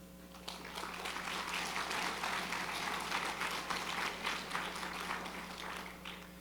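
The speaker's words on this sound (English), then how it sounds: "Let's applaud our awardees." Sustained applause from a large crowd at a corporate annual awards ceremony, dense and even, clapping steadily for several seconds at a moderate distance.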